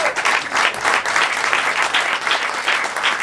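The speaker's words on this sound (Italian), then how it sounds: "Fatevi un applauso." A crowd at a Resistance-themed gathering in Cagliari applauds, a thick, steady burst of clapping that keeps an even loudness from start to finish.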